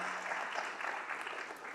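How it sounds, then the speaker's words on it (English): Audience applause for panelists at a healthcare town hall in Kisumu, a dense steady clapping heard alone at moderate distance. "Hazel, let's give our panelists a round of applause for"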